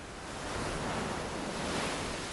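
Hawaiian Pacific surf breaks on the shore in a steady, broad wash of foamy noise, swelling slightly and continuing throughout, fairly loud with no voices.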